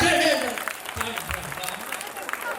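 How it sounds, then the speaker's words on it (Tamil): Applause from a seated audience at a Tamil song debate (pattimandram), a fairly loud burst that tapers after the first half second into steady, softer clapping. "கைத்தட்டல் மட்டும் முதல்ல கையில கொடுங்க."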